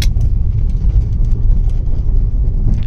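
A 2007 BMW 530xi with a fault that leaves it stuck in park drives slowly around a parking lot, its engine a steady, smooth mid-pitched hum from inside the car as the transmission shifts, with no voices.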